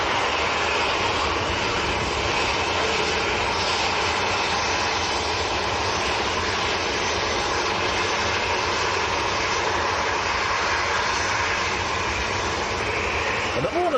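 A Jet2 airliner's engines roar continuously as it arrives at Manchester Airport, a loud, steady broadband rumble and whine that fills the whole stretch without letup.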